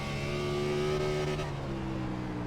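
A race car engine in iRacing on the Charlotte Roval, a B-Fixed series car held in second gear, drones steadily at high revs, loud and close, with a sustained buzzing tone and a slight pitch shift partway through.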